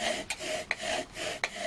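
A bow drill spindle rubs against a wooden board in a steady back-and-forth rasping rhythm, with sharp scraping strokes at each reversal, close and moderately loud with no voices.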